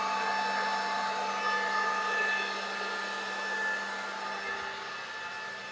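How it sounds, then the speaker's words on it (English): A CNC spindle running at 1200 hums with a steady high-pitched whine and sustained tonal drone, fairly faint and constant with no talk. "So it starts at 1200. That's the spindle."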